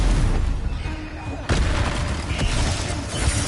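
A Confringo spell detonates in the Hogwarts Legacy video game: a sudden, loud blast that hits partway through, over a steady bed of game noise and rumble.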